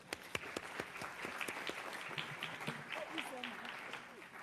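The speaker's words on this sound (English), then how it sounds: "Let's give her a round of applause." An audience at an evening public health event claps steadily, moderately distant, with some distinct sharp claps early on and a voice talking under it toward the end.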